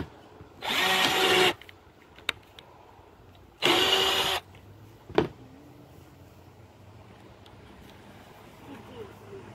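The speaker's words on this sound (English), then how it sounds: "Let me re-drill that hole." A power drill whirs in two short bursts of about a second each while re-drilling a hole, with a sharp knock between them and a clunk after, then quiet handling noise.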